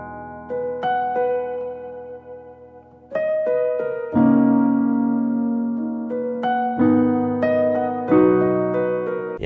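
A soft, muted felt piano preset, Jazzy Felt, plays a gentle melody over sustained chords, notes decaying warmly, with a fuller chord entering partway through.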